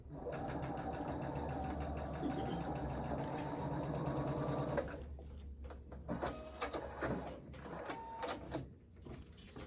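A domestic sewing machine stitches quilt-block fabric in a steady, close mechanical whir for about five seconds, then stops, leaving fabric handling and faint intermittent clicks.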